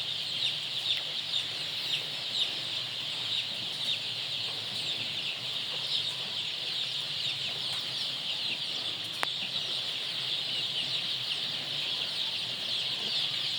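A hen and a rooster cluck at a farm amid a steady high insect-like drone, the fowl sounds faint and somewhat distant with no talk, and a single sharp click near the end.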